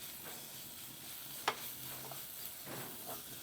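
Ginger, garlic and green chilli sauté in a pan for egg cutlet filling, a soft steady sizzle with faint stirring scrapes and a brief sharp clink partway through.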